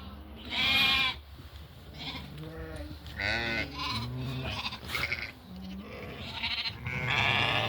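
Sheep and their lambs, ewes on their first or second lambing kept with rams on a farm for sale, bleat repeatedly and close by, with overlapping calls of varying pitch and brief pauses between bursts.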